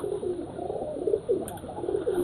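Pigeons coo repeatedly up close at a breeder's loft in Rajshahi, soft rolling calls arriving in a loose rhythm one after another, with a brief faint high chirp partway through.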